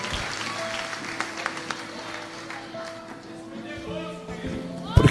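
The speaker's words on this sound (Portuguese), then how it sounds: "Os que podem, tomem o seu assento aplaudindo a Jesus, porque Ele é bom." A church congregation applauds during a sermon, a moderate, diffuse patter of clapping mixed with crowd murmur and voices, sitting fairly low in the room's sound and swelling slightly toward the end.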